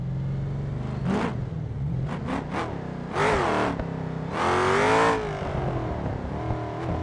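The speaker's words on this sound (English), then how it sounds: "It is a V8 style, so this is, I'm guessing, an LS engine essentially." A loud V8 race car engine in a racing video game revs in several sharp bursts, some short blips and two longer throttle pulls, over a steady idling rumble.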